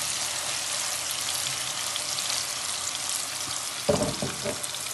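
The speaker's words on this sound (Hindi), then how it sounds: "कबाब और डाल दिए जी, फ्राई हो रहे हैं" Kebabs frying in desi ghee give a continuous close hiss and crackle, with a brief clatter of stirring near the end.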